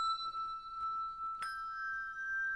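Two handbells held in one hand ring out together, a sustained bright tone with a second strike partway through adding a louder ringing chord that lingers to the end.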